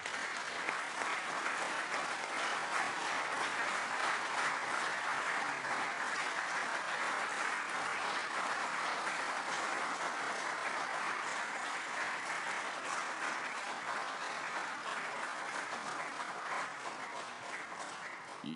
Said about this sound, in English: Y'all quit clapping.